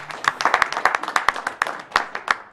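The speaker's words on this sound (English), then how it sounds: "Yeah, more claps." Audience applause at AGDQ 2014, a speedrun marathon event, with scattered crisp hand claps in an uneven rhythm, fairly close and steady, with no talk over it.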